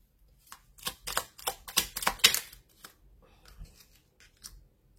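Tarot cards are drawn and handled from a deck in a quiet room, giving a run of close, crisp snapping and shuffling bursts for about two seconds before it thins to a few soft, scattered card touches.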